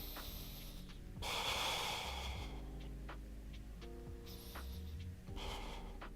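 Breathing during a stretching exercise: a loud, close inhale swelling through the middle, with sharp snort-like breaths later over a low hum; no talk.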